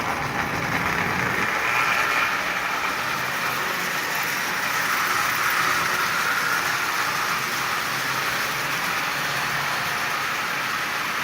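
A Marx 400 tin toy locomotive with a double reduction motor runs steadily on tin litho rail at about half power, pulling twenty tin litho cars, giving a continuous close whirring and rattling drone with no breaks.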